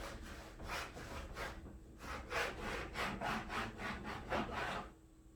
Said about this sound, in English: I'm going to go ahead and melt actual wax onto the board